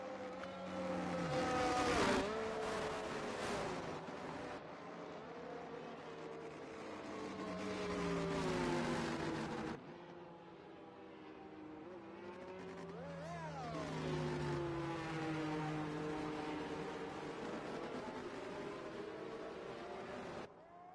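Formula 1 race cars from an F1 video game racing at the China round, with a steady loud engine whine whose pitch rises and falls as cars pass, a brief cut midway, and the engine noise filling the whole clip.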